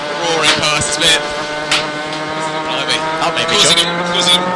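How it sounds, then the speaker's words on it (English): A racing kart with a loose exhaust roars past at a British university kart championship round at Clay Pigeon circuit, its raw, buzzing engine note loud and close, with other karts droning and a commentator talking over it. "Sounds like an exhaust loose there as well. I can hear that roaring past."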